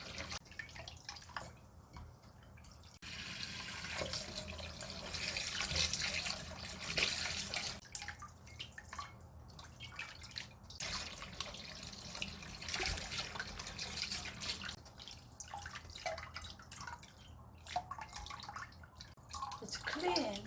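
Tap water runs steadily over baby octopus being washed in a sink, with splashing, dripping and gushing that swells and eases as the pieces are rinsed.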